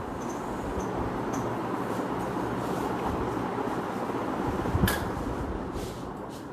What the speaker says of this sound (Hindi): पंखा बंद कर लें, जस्ट एक मिनट।